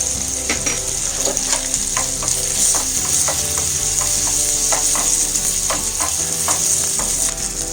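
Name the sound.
semiya and raisins frying in ghee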